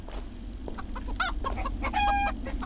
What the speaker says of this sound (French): C'était un mec, il est redevenu poule.